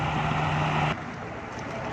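A Suzuki Cultus EFI petrol engine runs at a steady idle during a tune-up, a smooth continuous hum that drops slightly in level partway through and settles.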